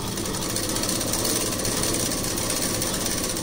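A sewing machine runs in one steady, continuous stitching burst, loud and close with no voices, as lining fabric is sewn onto the main fabric.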